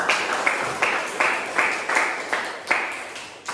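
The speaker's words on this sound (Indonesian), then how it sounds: "tepuk tangan buat kalian semua" Classroom clapping for students, rhythmic group claps in about seven even beats, close and clear with no talk.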